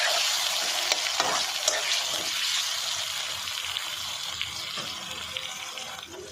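Frozen tomatoes with ginger paste and garlic paste fry in a pan, giving a steady, close, bright sizzle that holds throughout, broken by occasional clinks and scraping as the mixture is stirred.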